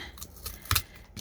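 Cardboard being snipped with scissors, a few short crisp cuts spaced unevenly, close and fairly quiet with no talking.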